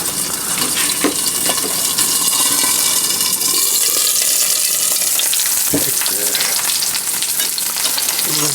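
Salmon pan-frying in a hot pan gives a loud, steady sizzle throughout, with scattered clicks and scrapes from stirring or a utensil on the pan.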